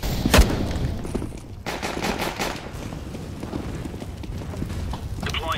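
Rapid automatic gunfire rattles almost continuously in CS:GO gameplay, with loud bursts layered over one another and no talking.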